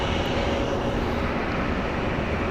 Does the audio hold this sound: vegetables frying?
no